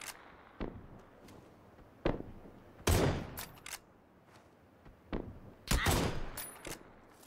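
Scattered gunshots in the video game PUBG, sharp cracks and short bursts at irregular intervals over a quiet background, some nearer and louder, others distant.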